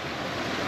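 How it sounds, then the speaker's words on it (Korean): A mountain valley stream in the Taebaeksan area flows in a steady, continuous rush of water, with no voices over it. "물소리 들으면서"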